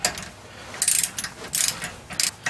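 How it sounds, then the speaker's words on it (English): A ratchet clicks in several quick bursts while tightening U-bolts on a Toyota Tundra TRD rear sway bar, close up with short pauses between strokes. "Go ahead and cross-tighten the U-bolts to"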